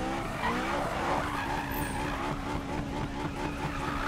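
Tires skid and squeal continuously as a car drifts in Need for Speed 2015, with a steady engine drone underneath throughout, loud and close with no pauses.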